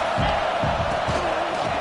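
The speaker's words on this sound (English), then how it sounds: "Mr. Two-Bits would be proud the Gators standing up and hollering for a first down" A Florida Gators football stadium crowd hollers and roars steadily for a first down, a loud, dense wall of voices with swelling shouts throughout.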